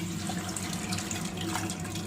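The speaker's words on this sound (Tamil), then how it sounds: "இந்த தண்ணி ஊற்றிடலாம்." Tamarind water is poured into a pan of mathi (sardine) fish curry, a steady, full rush of liquid heard up close, continuous and loud.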